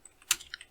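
A few quick keystrokes on a computer keyboard as a short command is typed, one sharp clack followed by lighter taps, close and fairly quiet with no talking.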